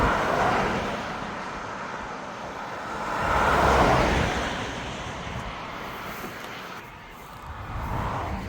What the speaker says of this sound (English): all these cars go past.